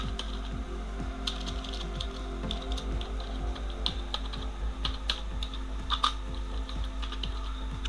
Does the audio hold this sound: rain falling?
no